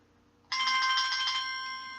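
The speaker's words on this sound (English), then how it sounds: "Your phone is ringing." A phone ringtone starts abruptly and rings loud and clear for about a second and a half, a bright electronic tone fading slightly toward the end, with no talking.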